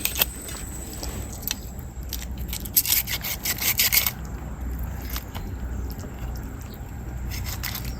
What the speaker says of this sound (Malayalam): ഇതിന്റെ ചെതുമ്പല് വേഗം പോകുന്നുണ്ടല്ലേ?